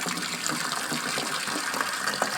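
Water pours steadily from a 20-litre drinking-water container into a cup for tea, a continuous close gushing stream that holds level for the whole stretch with no talk over it.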